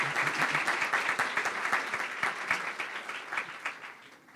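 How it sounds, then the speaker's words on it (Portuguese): A lecture audience gives a round of applause to an honoured law professor, steady crowded clapping with sharp individual claps standing out, gradually thinning toward the end. "queria uma salva de palmas"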